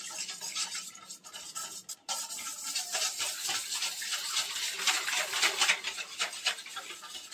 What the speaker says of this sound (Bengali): এবার চালের গুঁড়োটাকে, যে মিক্সচার আমরা তৈরি করেছি, সেটাকে খুব ভালো করে ফেটিয়ে নিতে হবে